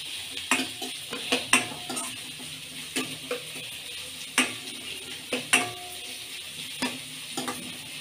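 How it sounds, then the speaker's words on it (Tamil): Sliced onions sauté in hot oil, a soft constant sizzle punctuated by a dozen sharp spatula scrapes and clinks against the pan at an uneven stirring rhythm, close by. "வெங்காயம் போட்டு வதக்கிட்டு இருக்கேன் இப்போ நான்"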